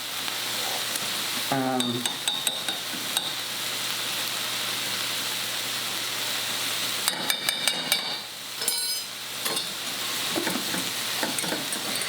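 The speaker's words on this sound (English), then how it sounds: "So I'm keeping stirring this because I got to keep stirring this before, and it will thicken." A sauce thickening with a tablespoon of cornstarch is stirred in a pan for ginger garlic pork, giving a steady sizzle with scraping spoon strokes and brief bursts of clatter, close and fairly loud, with no talk.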